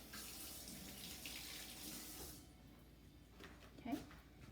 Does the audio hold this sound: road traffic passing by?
no